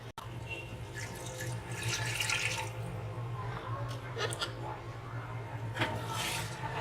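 Water pours into a large pot of mutton degi korma, a running, splashing flow that lasts several seconds at moderate loudness, with kitchen clatter around it and no talk.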